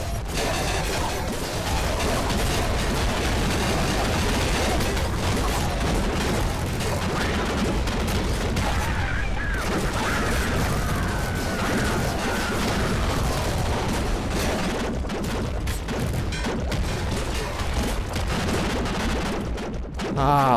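Dense, continuous gunfire and explosions from the PC game Nuclear Throne, loud, rapid bursts and booms filling the whole stretch with hardly a pause.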